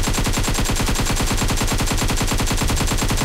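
Rapid automatic fire from an AKM rifle with Hellfire skin in PUBG Mobile, a loud, steady stream of closely spaced shots hammering without pause for the whole stretch.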